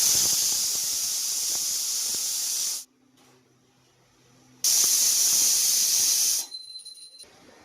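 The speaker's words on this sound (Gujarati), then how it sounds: "ફરીથી કુકરને સીટી મારીશું" A pressure cooker cooking mung beans whistles with two long, loud bursts of hissing steam separated by a quiet gap, the second burst fading into softer sputtering.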